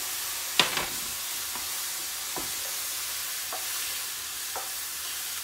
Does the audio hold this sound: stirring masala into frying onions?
yes